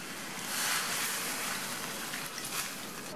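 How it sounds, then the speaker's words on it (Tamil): Water is poured steadily into a pot of bottle gourd sambar, a continuous soft splashing gush, close and alone without talk. "தண்ணி சேர்த்துடலாம்."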